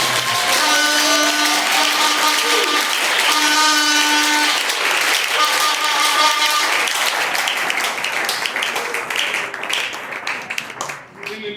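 A church congregation applauds to acclaim Jesus. The clapping is loud, sustained and rhythmic under singing and chant-like voices, then thins out toward the end.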